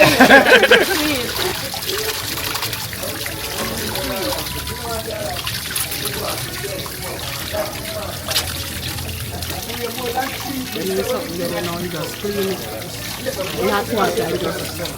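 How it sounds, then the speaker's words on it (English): Hot water trickles and pours steadily over hands, splashing close by at an outdoor Jamaican curry goat cookout, while people talk over it. "Pour some hot water upon your hand"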